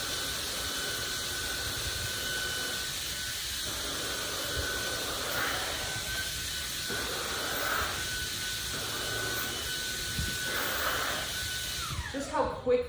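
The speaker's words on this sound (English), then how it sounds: "And now I just pick up my little vacuum cleaner and get these coffee crumbs." Small handheld vacuum cleaner picking up coffee crumbs, running as a continuous airy whine and whoosh with slight surges, close and fairly loud, ending with handling clatter.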